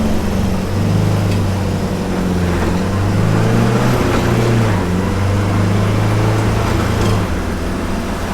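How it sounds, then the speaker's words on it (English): The engine of a small red classic car drones steadily with its throttle stuck at 3000 RPM, a loud, continuous buzzing hum whose pitch wavers slightly but never drops back to idle. "Throttle stuck at 3000 RPM."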